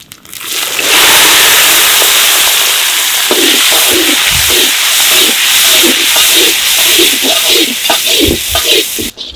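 Fennel seeds and cinnamon drop into hot oil and fry in a loud, steady sizzle, with scattered popping crackles throughout, heard up close in a home kitchen.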